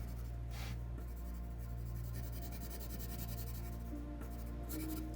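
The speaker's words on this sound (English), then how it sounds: "So I darken with pen." A pen drawing and darkening lines on paper for an architectural sketch of cylinders, soft scratchy strokes in quick bursts over a steady electrical hum.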